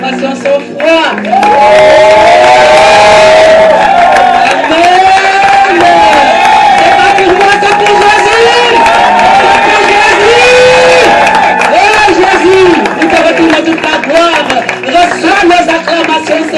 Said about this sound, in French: Nous pouvons l'adorer par nos acclamations.